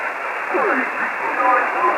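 An amateur radio voice transmission slightly off frequency, distorted and band-limited, with warbling pitch-shifted speech buried in hiss.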